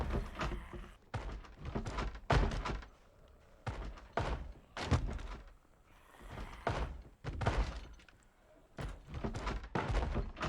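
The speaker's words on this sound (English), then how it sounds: "Somebody's banging on that window." A zombie in the Project Zomboid video game bangs repeatedly on a window of a barricaded room, heavy thuds arriving in irregular bursts, close and loud, with no one talking.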